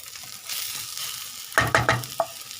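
Onions browning in olive oil in a pan, a steady close sizzle with a few sharp scraping stirs near the end; no talking.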